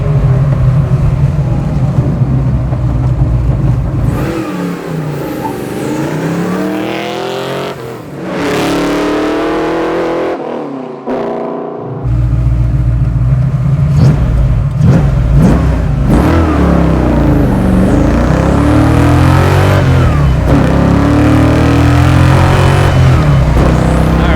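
A 1969 Ford Mustang Fastback restomod with a 347 stroker V8 and five-speed, heard from inside the car: loud, sustained engine roar rising through revs, a brief lift between shifts, then pulling hard again.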